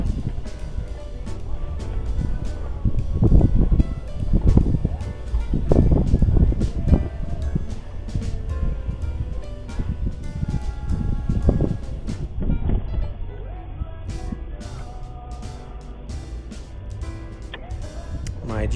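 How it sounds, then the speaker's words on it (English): Strong wind buffets the microphone in uneven gusts on a hilltop along the Cleghorn off-road trail, a steady low roar that surges louder in places before easing off. "it's pretty windy"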